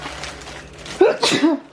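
A single close sneeze bursts out sharply after a moment of quiet room tone, followed by a short breathy aftersound.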